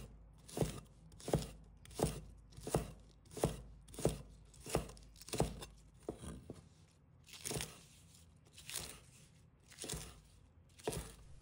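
Garlic sprouts (green garlic) cut into short pieces with a kitchen knife on a board: a steady series of crisp, close chopping thuds, roughly one every half second to second, with no voices.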